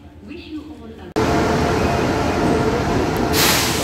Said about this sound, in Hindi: आ गई हमारी ट्रेन जिसका था इंतजार, हम सफर एक्सप्रेस